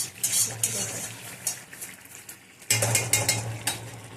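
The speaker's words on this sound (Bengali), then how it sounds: "একটুখানি নিম পাতা রেখে দেবো ভেজে" Neem leaves frying in a home kitchen pan, with stirring scrapes and light sizzling that breaks off briefly and then resumes, a low hum underneath throughout.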